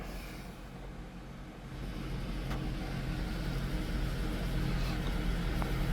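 A 2002 Honda CR-V engine idling cold during its morning warm-up, a steady low rumble that grows slightly louder partway through and holds at an even, continuous drone.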